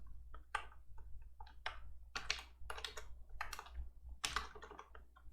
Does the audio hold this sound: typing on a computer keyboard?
yes